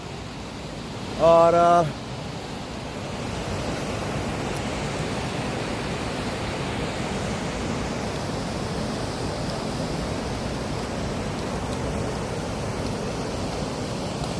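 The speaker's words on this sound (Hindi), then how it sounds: "ये झरना है" A mountain waterfall pours as a steady, broad rushing hiss throughout, with a man's brief spoken word near the start.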